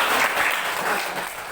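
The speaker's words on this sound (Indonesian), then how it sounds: "Tepuk tangan juga." A class breaks into a short burst of dense, steady applause that lasts barely two seconds.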